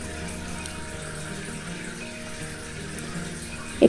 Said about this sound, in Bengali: এই অবস্থায় আমি এর মধ্যে সামান্য জল অ্যাড করে দিলাম।